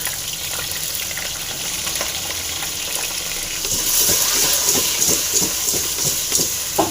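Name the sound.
mango pieces frying and being stirred in pan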